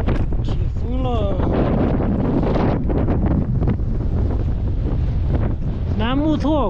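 Wind gusting steadily across an open high-altitude road while cycling in Tibet's Ngari region, a loud broadband roar buffeting the microphone throughout, with brief vocal or whistling tones near the start and end.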